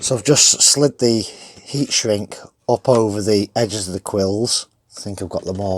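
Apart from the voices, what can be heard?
No everyday noises stand out.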